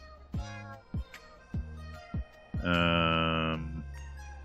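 Cat in the video game Boyfriend Dungeon, four short distinct meows in an even rhythm, then a longer, louder drawn-out yowl, clear and close with no talk.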